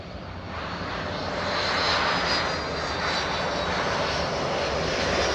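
A Boeing 757-200 serving as Air Force One at Los Angeles International Airport gives off a steady, broad engine roar that holds constant and fairly loud throughout, with no voices.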